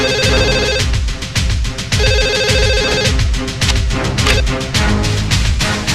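A telephone ringtone plays loudly as a bright, repeating melodic pattern over a steady beat, continuous for about six seconds with no voices.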